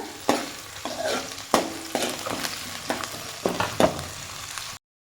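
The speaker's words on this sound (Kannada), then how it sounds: "ಹಸಿಮೆಣ್ಸಿನ್ಕಾಯಿ ಈರುಳ್ಳಿ ಕರಿಬೇವು ಎಲ್ಲ ಹಾಕೊಂಡು ಸ್ವಲ್ಪ ಫ್ರೈ ಮಾಡ್ಕೊಳ್ತಾ ಇದ್ದಾರೆ" Green chillies, onion and curry leaves frying in a pan, a soft continuous sizzle broken by regular scraping stirs, about five or six sharp strokes, close and alone.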